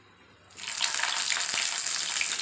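Onion-spiced eggplant (vankaya) frying in hot oil: after a quiet start, a sudden loud, hissing sizzle erupts as water from the eggplant hits the oil, then keeps sputtering steadily up close.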